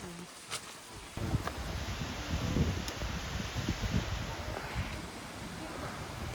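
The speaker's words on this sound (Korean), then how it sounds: "바람 부니까 많이 떨어지네." Wind gusts through autumn trees as falling leaves rustle, a broad outdoor roar that rises after a quieter start and stays steady.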